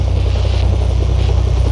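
A helicopter lifts off from a landing pad in the video game Splinter Cell: Blacklist. Its loud, steady rotor thump and engine drone run unbroken throughout.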